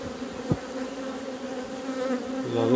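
Honeybees of a small swarm hum in a hive, a close, steady buzzing drone with one brief knock partway through.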